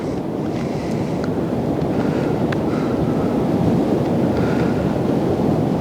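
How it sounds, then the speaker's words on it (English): Strong swirling wind at Lindley Wood Reservoir during pole fishing, a steady, loud roar and buffeting against the microphone throughout, with no talk. "As you can see, it's quite a swirling wind"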